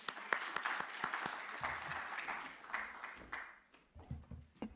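Audience at a French paleoenvironment conference applauds, a moderately quiet burst of clapping with sharp individual claps that thins out toward the end, with a voice beginning to speak near the close.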